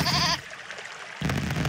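A goat bleats briefly in the video game There Is No Game, one short wavering cry at the start, followed by a quiet gap and then a burst of game noise.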